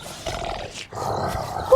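A deer in a forest survival video game bellowing a rough, growling roar, loud and close, in two sustained stretches with a brief break between.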